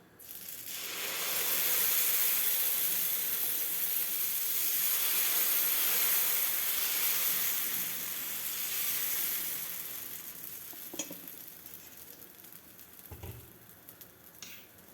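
Dosa batter sizzling loudly on a well-heated tawa, a steady broad hiss that swells and eases over several seconds before fading, with a few faint clinks near the end and no talk.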